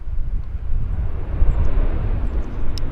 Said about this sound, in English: I think we got an aircraft rolling out right here.